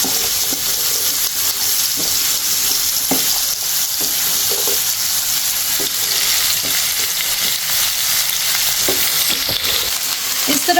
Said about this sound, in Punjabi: ਪਿਆਜ਼ ਤੇ ਭਿੰਡੀ ਨੂੰ 1 ਤੋਂ 2 ਮਿੰਟ ਹੀ ਸੇਕ ਲਗਾਉਣਾ ਆ